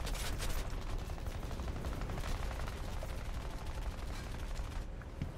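B-29 tail gunners firing incendiary rounds in War Thunder: continuous rapid machine-gun fire, rattling steadily and fairly quietly, with no talking over it.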